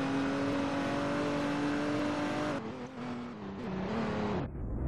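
Car engine driving in the game ERLC (Emergency Response: Liberty County), a steady droning hum that shifts pitch near the end, then cuts off as the car spins out.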